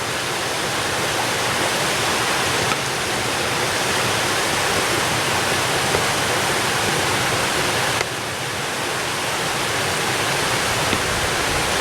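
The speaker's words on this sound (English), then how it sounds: "Now you can see that waterfall a lot better." A woodland waterfall on a creek in late February roars as a dense, continuous rush of falling water, loud and close, steady throughout with no voices over it.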